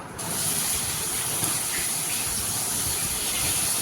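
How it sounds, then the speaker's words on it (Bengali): Parboiled cauliflower and potato hit a pan of cumin-tempered oil and fry with a loud, steady sizzling hiss that runs unbroken throughout. "এরপর ভালো করে নাড়াচাড়া করে ভাজতে দেব ফুলকপিটাকে"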